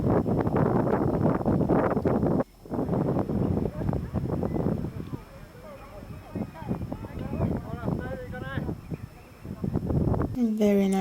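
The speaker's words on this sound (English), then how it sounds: "I'm not sure what's that bridge, and it's so windy." Strong gusts buffet the microphone in a steady roar at a seaside park in Tokyo, with a brief lull partway through and people talking over it.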